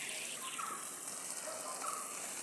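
Water sprayed from a hose onto plants and a mango tree in a home garden, a steady hissing gush with a light patter like rain, continuous and fairly close.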